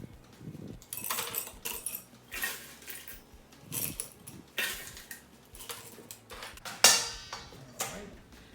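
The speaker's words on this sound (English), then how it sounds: "we're going to fill this with crushed ice" Crushed ice clattering and rattling into a cocktail glass in a run of bright, close, uneven bursts, with one sharper clink near the end and no talk.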